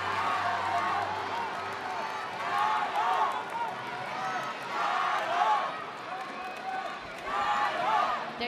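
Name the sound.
arena crowd cheering in support of Chinese gymnasts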